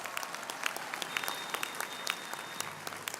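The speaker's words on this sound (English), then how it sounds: "A round of applause." Audience applause at a university graduation ceremony after a musical performance, a continuous crackle of many hands clapping at moderate distance, fairly faint and steady.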